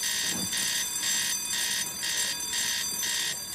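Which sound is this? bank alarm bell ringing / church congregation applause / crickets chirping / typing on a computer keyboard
bank alarm bell ringing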